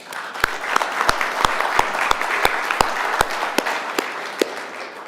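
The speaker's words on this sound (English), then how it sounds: "Let's give all of them a round of applause." A crowd claps in sustained applause, with several sharp, close hand claps punctuating the continuous rustle of many hands.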